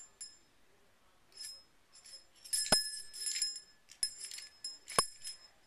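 A small handbell rings in scattered bright jingling bursts, quiet overall, with a couple of sharper metallic strikes standing out against near silence.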